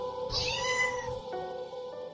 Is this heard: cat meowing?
yes